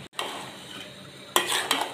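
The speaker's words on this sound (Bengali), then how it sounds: "এখন একটু লাড়াচাড়া দিয়ে দিব" Rice is stirred in a metal pot for beef liver khichuri, with a sharp scrape at the start, then soft frying hiss and louder clattering spoon scrapes near the end.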